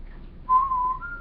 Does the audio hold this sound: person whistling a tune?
yes